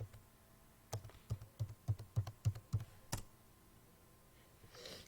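A username and password being typed on a computer keyboard, a quick run of about ten distinct, close key clicks in a steady rhythm, then a harder keystroke and a faint breath in an otherwise quiet room.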